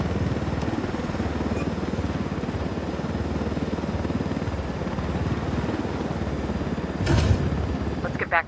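Helicopter in Ghost Recon Wildlands, a steady close rotor thump and engine drone that holds loud and constant, with speech heard over it and a brief louder burst near the end.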